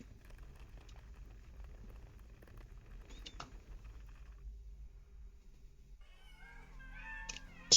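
Cats meowing in The Excavation of Hob's Barrow, a few faint short mews emerging near the end over a quiet, low ambient background.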